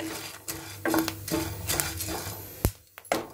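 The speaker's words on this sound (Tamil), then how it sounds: "இப்போ தான் கொஞ்சம் ஒன்று ஒன்றா வெடிக்க ஆரம்பிக்குது." Horse gram dry roasting in a pan begins to crackle, giving scattered sharp pops and clicks over a faint background scrape of stirring, close and moderately loud, with no voices.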